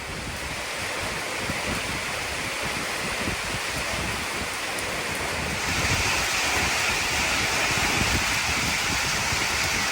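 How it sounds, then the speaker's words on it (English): Rain falls steadily outdoors beside a van, a dense loud hiss that holds constant throughout with no voices. "It's raining."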